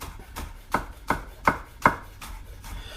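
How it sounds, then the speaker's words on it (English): A kitchen knife slicing green onions, both white and green parts, into thin rounds on a cutting board: about seven evenly paced, crisp chops up close, with no voices. "we're just going to chop the green onions into little rondelles or little circles"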